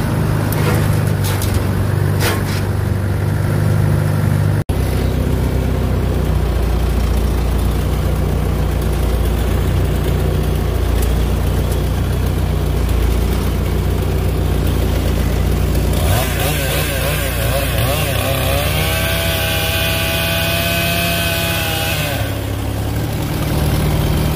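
A truck engine idles steadily through the whole stretch, a low constant rumble near at hand while snow falls outside, with no voices over it.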